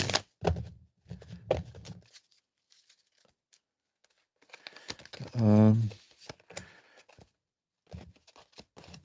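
Tarot cards are shuffled in bursts of crisp riffling and flicking, with quiet gaps between, a louder buzzy moment midway, and a voice speaking briefly around the card sounds.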